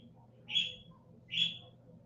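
A bird gives two clear, high calls about a second apart, each a short bright note. They sound fairly faint over a low steady background hum.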